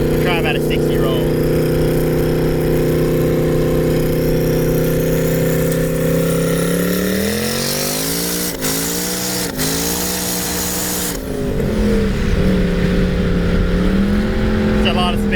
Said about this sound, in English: We're just gonna kind of do a second gear pull so you can see what it does